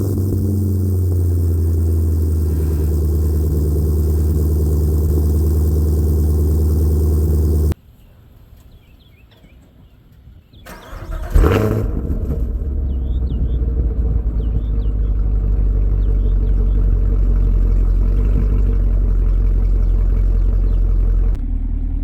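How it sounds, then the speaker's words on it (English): A Chevrolet C1500 Silverado truck with a swapped L83 Gen V V8 idles loud and close with a steady deep rumble, cuts out briefly, then restarts with a sharp burst and settles back into a low, even idle. "We'll do an idle, drive-by, and a takeoff in the truck."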